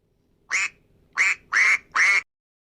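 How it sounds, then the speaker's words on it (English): A duck quacks four times, loud and close: one quack, a short pause, then three in quick succession. "Duck."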